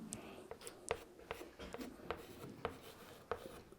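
Marker or chalk strokes on a board during a chemistry lecture, a steady series of short, crisp scratches and taps spaced roughly every half second, close and clear with no talking.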